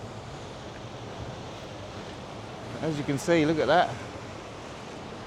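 Steady surf and wind roar along Taghazout Beach in Morocco, a constant broadband wash, while a person speaks briefly near the middle.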